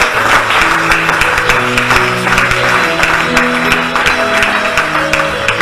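A church congregation applauds, a steady dense wash of clapping that holds evenly for several seconds, with sustained musical tones running underneath.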